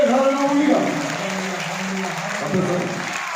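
A church congregation claps in praise during a worship service, a steady wash of hand claps mixed with voices over the full stretch, fairly loud and close, with speech and singing running beneath.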